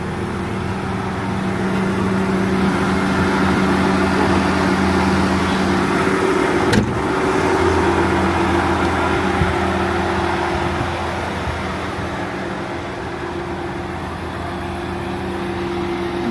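A new four-wheel drive vehicle's engine idles steadily, a low continuous hum with one brief click partway through, no talking.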